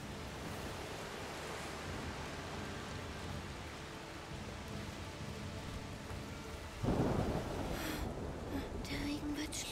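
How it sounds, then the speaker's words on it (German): Heavy rain and a thunderstorm in the video game A Plague Tale: Requiem, a dense steady downpour with a deep rumble of thunder rolling in partway through, voices talking faintly beneath. "Der Regen wird schlimmer. Das ist nur ein Sturm."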